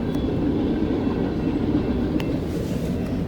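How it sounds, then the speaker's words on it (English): A train rolls past a railroad crossing, a steady, loud low rumble of rail cars with faint clicks and a brief higher tone, continuous throughout and without speech. "I'm stopped, you guys, for a train"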